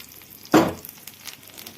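Garlic hits hot oil with a sudden loud sizzle that flares and then settles into a softer crackle, with light stirring close by.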